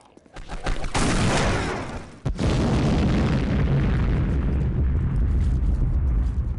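Rockets explode in a video game with a loud, booming roar that swells to a sustained rumble, cuts briefly, then erupts again into a long, heavy, continuous blast close up.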